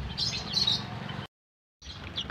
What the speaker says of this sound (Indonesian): Ini kacamata ya, burung kacamata.